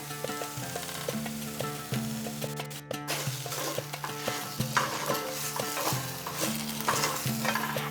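Cardamom pods and spices stirred in a frying pan during home-style Bengali fish curry prep, with steady close sizzling and repeated scraping strokes of a spoon against the pan, no voices.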